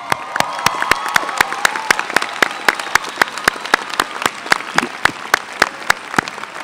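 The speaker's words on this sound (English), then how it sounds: "Let's cheer them all." Audience applause and cheering at a university commencement ceremony, a big crowd clapping continuously with a few loud, rhythmic nearby claps standing out and faint cheers in the background.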